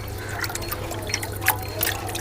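Water is poured over raw mutton pieces as they are washed, giving a light, continuous trickle broken by small splashes and drips at close range.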